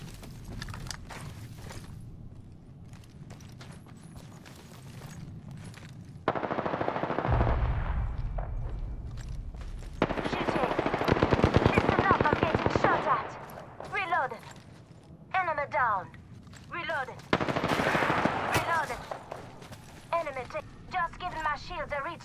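Rapid automatic gunfire bursts in an Apex Legends match, loud and close, coming in repeated volleys between shorter shots, mixed with game voice callouts and other in-game effects.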